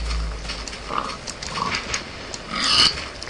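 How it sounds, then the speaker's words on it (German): A pig in the video game Minecraft gives a few short, separate grunts at a moderate level over a soft game background, with no speech. "Und da ist ein Schweinli."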